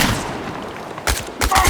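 Gunfire in the video game Chernobylite, with loud close shots in quick bursts, a sustained rattle followed by two sharp separate volleys.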